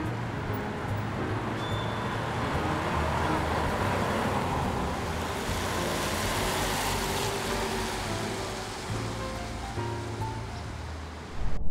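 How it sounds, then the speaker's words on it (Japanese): Steady road and tire roar of a Nissan X-Trail Autech cruising on the Shin-Tomei expressway near Shizuoka parking area, a continuous broadband rush from inside the cabin with no talk. "ただいま新東名の、えー、静岡パーキングエリアのあたりを走っております"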